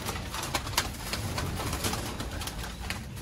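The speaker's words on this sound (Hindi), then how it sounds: "इस वीडियो में आपको सियालकोटी छत वाले कबूतरों का शौक करवाया।" Sialkoti rooftop pigeons coo softly and repeatedly amid a busy, noisy outdoor background, with occasional wing flutters or clicks.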